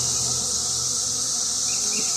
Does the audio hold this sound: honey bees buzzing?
yes